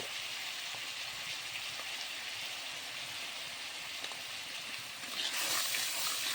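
Turmeric and spices for an egg and potato curry sizzle steadily in a pan, a soft, even frying hiss close by that swells a little louder near the end.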